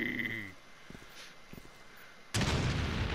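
A grenade blast in the shooter game Umbrella Corps lands near the end as a sudden loud, broadband burst, following quieter scattered pops and thuds of gameplay.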